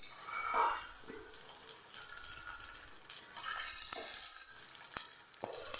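Banana slices sauté in ghee in a non-stick pan with a soft, steady sizzle. Occasional stirring and scraping clicks sound close by.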